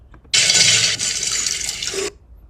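A head plunged into a bowl of ice water: a sudden loud splash followed by about two seconds of sloshing, churning water that then stops abruptly.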